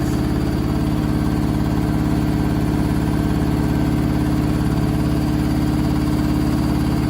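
Candy SmartTouch washing machine in a badly unbalanced final spin: a loud, constant drone with a dense pulsing rattle from the load throughout, close and steady, with no voices.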